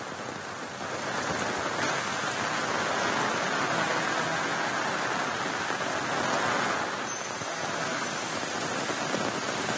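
A steady, dense roar of heavy rain in Shiradi Ghat fills the whole stretch, constant and loud with no pauses or voices.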